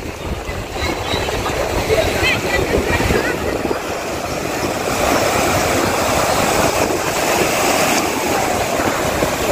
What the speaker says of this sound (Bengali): খুব ঢেউ মোহনাতে।